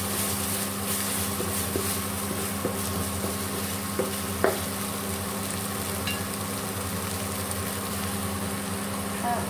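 Crispy pork stir-frying with red curry paste in a pan, a steady low sizzle under a continuous hum, with a few faint scrapes and clinks of stirring.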